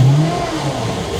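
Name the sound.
Mercruiser 383 MPI boat engine revving in neutral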